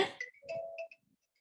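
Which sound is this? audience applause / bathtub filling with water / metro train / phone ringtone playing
phone ringtone playing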